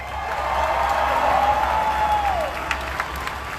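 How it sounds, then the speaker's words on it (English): Audience at a Black Lives Matter rally downtown in Salt Lake City applauds and cheers, the clapping swelling and then thinning out, with a rising whistle-like tone sounding above the crowd. "Another round of applause for Meg Singer."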